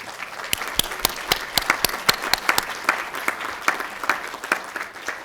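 An audience applauds graduates at a health informatics graduation ceremony, dense sustained clapping from many hands filling the room, steady and moderately loud with distinct sharp claps standing out near the front.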